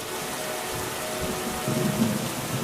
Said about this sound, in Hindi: कुछ दिनों बाद बहुत तेज बारिश होने लगी